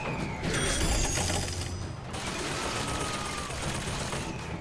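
An automated turret in Bioshock Infinite fires a sustained loud burst of gunfire, starting with a heavier volley and continuing as a dense rattling stream under game noise.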